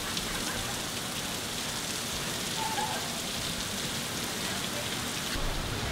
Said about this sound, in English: Yeah, so there's a little bit of rain going on, nothing dramatic.